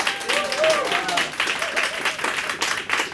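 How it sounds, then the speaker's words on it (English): An audience in a cafe gives a big round of applause, dense continuous clapping with a few cheers and whoops over it, steady and fairly loud throughout. "want to give a big round of applause and thanks to Talib Barnes and Kiana Barnes for opening"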